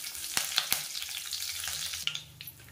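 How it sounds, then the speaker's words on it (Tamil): Curry leaves crackle and spit as they drop into hot groundnut oil, a dense near sizzle with sharp pops and a couple of louder bursts, no voices. "எண்ணெய் நல்லா சூடானதும் கருவேப்பிலையில் சேர்த்துக்கலாம்."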